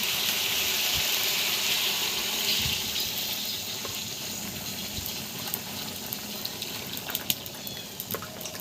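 Broth poured into a pan of curry with ash gourd and rohu fish, a steady close pouring and bubbling wash of liquid running throughout, with a few small clinks near the end.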